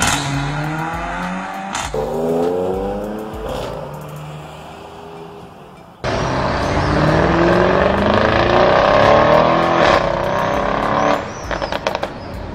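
A high-performance car with a DSG/DCT dual-clutch automatic gearbox revs up through rising engine tones, then shifts gear with an abrupt exhaust blat. A louder run follows, ending in a few quick crackling exhaust pops.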